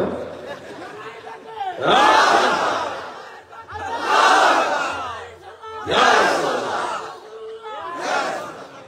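Large crowd at a live religious gathering in Kaliganj, Satkhira, roaring a takbir chant in four loud, swelling bursts, each a massed shout that rises and falls with brief lulls between, near and full.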